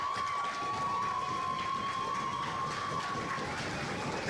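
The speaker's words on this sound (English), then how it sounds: "As the crowd chants, "Thank you, Mike."" A pro wrestling crowd at a live event chants in unison, a steady distant roar of many voices filling the arena, with a thin high whistle-like tone running through it.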